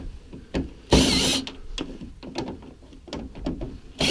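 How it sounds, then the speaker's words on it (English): Screws being unscrewed from an air conditioner being scrapped, heard as close irregular ratcheting clicks and metallic rattles with a brief louder scrape burst early on. "so kind of just taking the screws out slowly"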